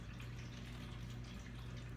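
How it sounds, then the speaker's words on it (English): A faint, continuous trickle of running water from a cat's water fountain with a low mechanical hum beneath it, steady throughout with no voices. "You guys can hear the water fountain in the background."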